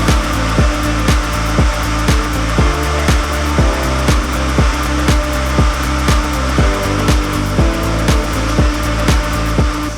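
A draw frame machine drafts cotton sliver in a spinning mill, giving a loud, continuous mechanical drone broken by regular rhythmic thumps and knocks that repeat about twice a second, with no talking.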